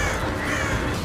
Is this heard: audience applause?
no